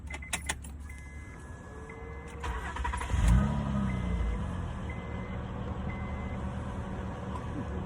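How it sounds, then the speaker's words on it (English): A Honda Accord engine cranks and starts after a spark plug change, with a click and a brief starter whir, then settles into a steady low idle that runs on close by for several seconds. "That boy running. She running."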